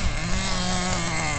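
A Jato 3.3 nitro RC car's small carbureted engine runs loud and close, a continuous buzzing whine that holds steady throughout without talk.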